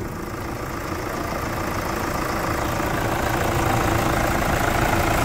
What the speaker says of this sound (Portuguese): Olha aí o motor como é que ficou.